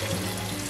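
Water pouring from a tap over dry pasta in a pressure cooker pot in a home kitchen, a brief steady rushing splash heard close up with no talk.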